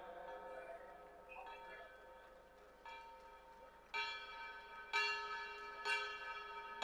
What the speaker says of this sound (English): show us the experience of ringing the bell of peace